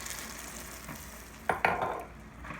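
Toasted chickpeas with lemon juice and zest are tossed in a pan, giving a quick double scrape-and-rattle against a soft sizzle that then settles back to a low frying hiss.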